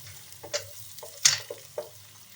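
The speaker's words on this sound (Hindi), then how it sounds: "ये देखिएगा लहसुन ब्राउन होने तक तकरीबन आधा मिनट लगेगा" Garlic frying in a pan on the stove until brown, heard as a soft background sizzle broken up by several brief stirring scrapes and clinks spaced about half a second apart.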